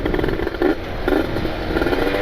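A ported Kawasaki Ninja RR two-stroke motorcycle engine revs close by, a rough raspy drone with short throttle blips rising and falling over about two seconds.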